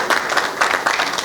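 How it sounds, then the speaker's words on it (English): Audience applause at a product launch event, a brief burst of dense clapping from a crowd, steady and moderately loud. "Round of applause."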